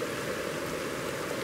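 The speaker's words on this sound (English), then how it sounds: "There's nothing like sitting next to running water like this" A forest stream runs steadily nearby, a continuous broadband wash of flowing water with no breaks, fairly soft and alone without voices.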